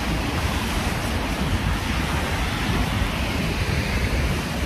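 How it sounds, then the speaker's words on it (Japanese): Rain falls outdoors in front of Osaka City Hall, a dense, even wash of hiss mixed with some wind buffeting on the microphone, steady and fairly loud with no talking. "雨が降ってる"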